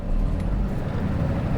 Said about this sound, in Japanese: それでは発車します